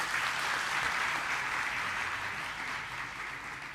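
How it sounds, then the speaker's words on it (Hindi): A lecture audience bursts into loud, sustained clapping during a Hindi spiritual discourse, a dense, steady wash of many hands that holds for several seconds with no talking over it. "बजाओ जोर से ताली।"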